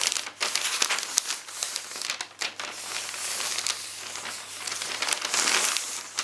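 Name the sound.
folding wrapping paper edges around a Christmas gift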